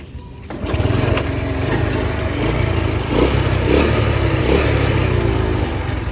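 A 1993 Honda Grand motorcycle with a smooth, leak-free engine idles steadily close by. Its even, throbbing putter holds constant throughout, with slight swells in the rhythm.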